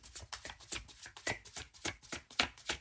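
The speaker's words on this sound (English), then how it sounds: "We're going to pull 7 cards here." A deck of tarot cards is shuffled by hand for a Pisces reading, with a quick, steady run of soft papery riffles close up and no talking.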